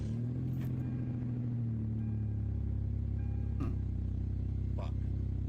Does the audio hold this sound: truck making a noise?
yes